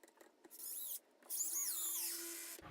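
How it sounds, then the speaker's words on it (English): A power drill driving a large screw into a wall to mount a hangboard, whining in two bursts with a short pause between them, the pitch rising and falling as the motor loads up, close and fairly loud. "Now I'm going to get my large screw, and I am going to drill it all the way in."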